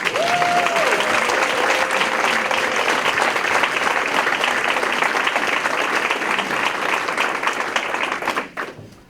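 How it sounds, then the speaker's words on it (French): Sustained loud applause from an audience at a recognition celebration welcoming a speaker, dense steady clapping lasting around eight seconds before fading out, with a faint whistle-like tone early on. "on peut l'applaudir"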